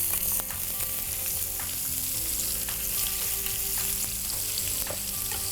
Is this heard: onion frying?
yes